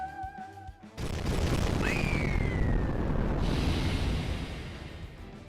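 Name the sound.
big explosion in video game Fate/Grand Order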